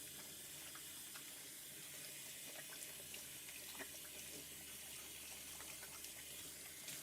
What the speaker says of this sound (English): Our water's starting to boil.